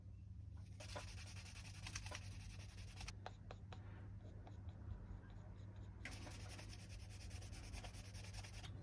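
Cloth wiping excess oil off the edge of a leather minimalist wallet, heard as close, steady rubbing strokes in bursts with a pause midway, over a constant low hum.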